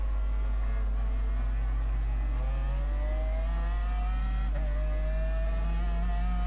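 A race car engine in GT Sport drones steadily at high revs, its pitch climbing slowly through a long pull with a brief dip near the middle, loud and continuous with no talk.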